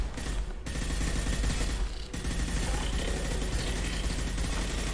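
Sustained gunfire from a firefight in Mass Effect 2, with dense, loud bursts of rapid shots running almost continuously, broken only by brief near-silent gaps.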